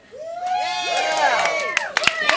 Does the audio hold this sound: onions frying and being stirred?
no